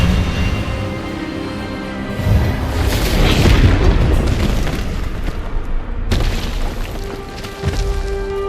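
A loud spell blast from the Hogwarts Legacy video game, a booming burst that swells and rolls for several seconds, followed by a second sharp impact near the end, with dense layered effects and no talk.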